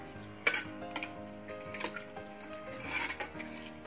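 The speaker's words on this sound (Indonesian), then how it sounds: "kacau sebati" A spoon stirs a prawn and lemongrass biryani rice mixture in a pot, with soft scrapes and metallic clinks against the pot rim over quiet background music.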